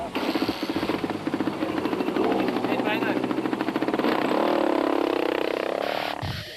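A racing motorcycle engine revs hard and steadily at the 2007 Rustenburg 200 race, with a rising whine near the end, under a rough continuous mechanical roar.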